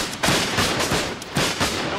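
Black powder musket volleys and cannon fire in a period battle, heard as dense, continuous blasting with repeated heavy broadband bursts rolling over one another, loud and close throughout.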